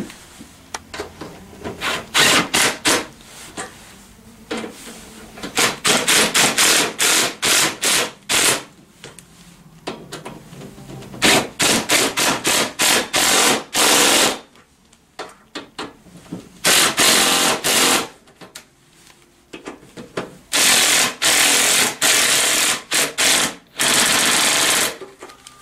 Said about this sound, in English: I'm going to cheat because I'm going to use my drill gun,